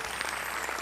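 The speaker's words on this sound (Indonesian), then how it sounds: "Tepuk tangan dulu lah." Studio audience at a comedy talk show breaking into applause, a short burst of dense, steady clapping filling the whole moment without talk.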